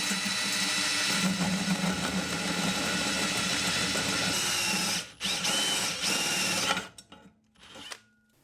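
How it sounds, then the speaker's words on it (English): A drill with a hole saw grinds through a thick, chunky metal chainstay yoke from an Onza T-Rex bike frame, a loud sustained rasping cut that breaks off briefly near the end, then stops and restarts in short bursts. "Next up to face the wrath of my drill is the chainstay yoke"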